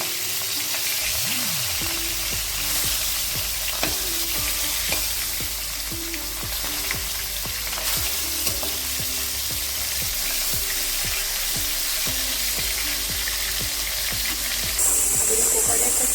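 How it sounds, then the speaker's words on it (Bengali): Three fish heads rubbed with turmeric and salt frying in mustard oil in a kadai, a steady bubbling sizzle throughout with scattered spatters and pops, a voice talking over it. "এখানে আমি নিয়ে নিয়েছি তিনটে মাছের মাথা হলুদ লবণ মাখিয়ে এটা ভেজে নেব আর এখানে আমি সরষের তেলটাই দিয়েছি"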